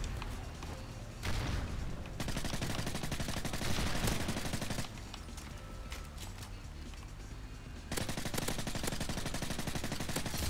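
Sustained automatic gunfire from the video game Modern Warfare 3, loud rapid bursts of shots running almost continuously, with brief dips in intensity between volleys.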